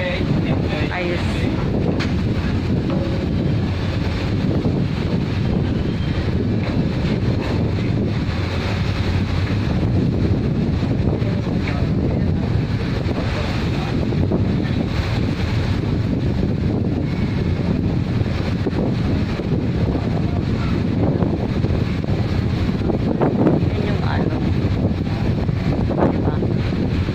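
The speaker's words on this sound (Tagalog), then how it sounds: "Malakas lang po ang hangin." Strong wind at sea buffets a boat bound for Sibuyan, Romblon, making a loud, continuous roar of gusts against the microphone with a low rumble underneath and no let-up throughout.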